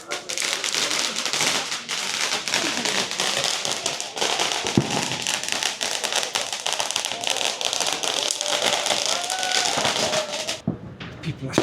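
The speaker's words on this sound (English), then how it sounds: "There's still random fireworks being set off all around the town." Scattered fireworks go off around a town during a fireworks festival in Elche, Costa Blanca, Spain, a dense continuous crackle of bangs and pops near and far, with faint voices underneath.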